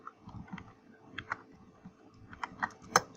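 Someone types on a computer keyboard, entering text into a spreadsheet cell. Quiet, irregular key clicks come in small clusters, with one sharper tap near the end.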